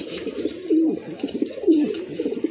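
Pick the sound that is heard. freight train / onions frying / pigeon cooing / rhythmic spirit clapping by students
pigeon cooing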